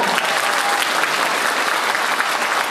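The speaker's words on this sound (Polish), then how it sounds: "Duże brawa, proszę." Wedding guests break into loud, sustained applause, a dense wash of many hands clapping steadily with no pauses and no clear voices over it.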